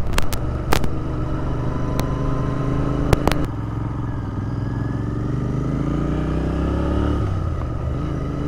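A Royal Enfield Interceptor motorcycle cruising along a road on the Kintyre east coast in Argyll & Bute, its engine droning loud and steady with wind rush, a brief pitch change near the end and a few sharp knocks early on.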